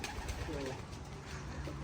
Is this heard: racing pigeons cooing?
yes